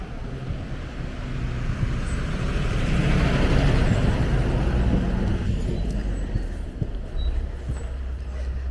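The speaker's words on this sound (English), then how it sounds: "So this bus is a little bit deceiving. This is a city bus." A city bus rolls past in Langosta, Costa Rica, a steady low engine rumble and road noise that builds toward the middle and eases off, with a faint breeze and no voices.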